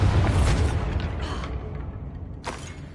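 A Bombarda spell explosion in the video game Hogwarts Legacy bursts as a loud, deep boom that rumbles and fades, with a second sharp crack near the end.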